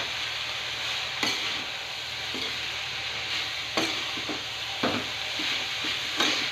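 A spoon stirs vegetables frying in a pan for a Kerala chira thoran, with soft sizzling throughout and several sharp scraping knocks against the pan, no talk.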